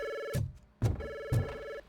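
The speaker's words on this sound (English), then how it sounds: "Bedlam out there with this many phone calls coming in." An office telephone rings with an incoming call in a busy, chaotic setting: three sharp rings with short gaps between them, each starting with a percussive attack, loud and alone.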